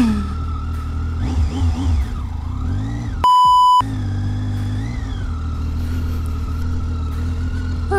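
An adventure motorcycle's engine hums steadily and rises in a couple of revs while climbing a mountain track; a short electronic beep cuts in midway, and no one talks.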